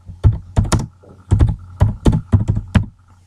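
Keys on a computer keyboard clatter in short bursts of two to four quick taps separated by brief pauses, close and crisp, while typing in a word processor.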